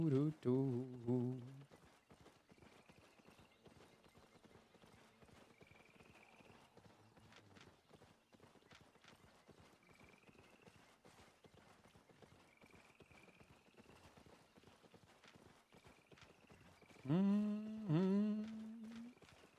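A tier 8 horse gallops in a video game with steady, rhythmic hoofbeats running throughout, and a loud whinny breaks out at the start and again near the end.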